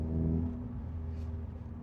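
A Renault Clio RS MK3 (Clio 200) engine runs close and loud in a steady, throaty drone that eases slightly toward the end, with no voices.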